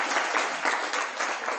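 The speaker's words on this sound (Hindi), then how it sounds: "हाँ, इनके लिए ताली बजाओ।" A group at a Vedic Sandhya teaching session claps together in a brisk, even burst of many hands, dense and fairly close, lasting under two seconds with no speech over it.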